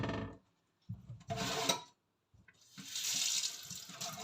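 Kitchen tap running into a sink in short, separate bursts, with quiet gaps in between, ending in a longer splashing flow; close and fairly faint.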